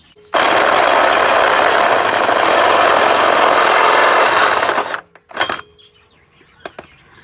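Power drill boring a hole through a Toyota Celica GT-Four bumper for Mishimoto oil cooler lines, a loud, close, steady grinding whine lasting several seconds, then stopping, followed by a short burst and light clatter.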